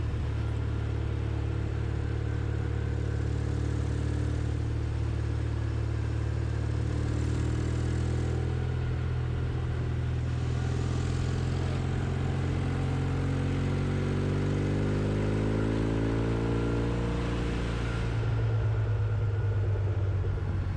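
A Norton Commando motorcycle rides through corners with a steady, close engine drone, its pitch gently rising and falling as the throttle changes, with wind rush over the top throughout.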